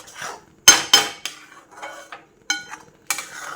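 A spatula scraping and knocking against a pan while mango barfi mixture is stirred, sharp irregular metallic clinks and scrapes close by, with quiet gaps between strokes and no speech.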